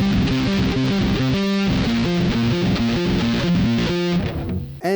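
Electric guitar played through a Tech21 Frank Bello StreetDriver48 distortion pedal, a continuous driven riff of chugging low notes and sustained chords, loud and steady, cutting off abruptly near the end.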